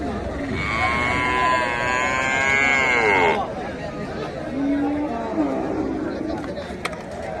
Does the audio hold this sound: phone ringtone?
no